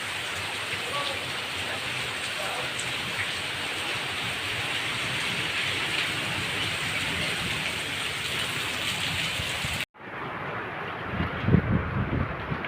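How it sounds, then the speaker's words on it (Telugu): Heavy rain pours down in a dense, continuous hiss, loud and close, with wind buffeting the microphone, then it cuts abruptly and a softer rain texture with a few nearby rustles follows. "ఇది వర్షం పడుతుంది చూడండి"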